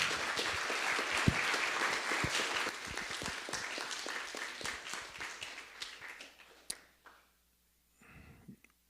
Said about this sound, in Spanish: Démosle un fuerte aplauso para recibirlo con mucho gusto.